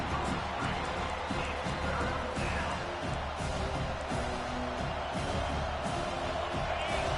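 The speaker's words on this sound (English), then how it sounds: "Decibels rising as the crowd gets behind this defense on third down" A stadium crowd in College Football 25 roars in a steady, dense wash of cheering on third down, loud and sustained throughout, with a commentator's voice running underneath.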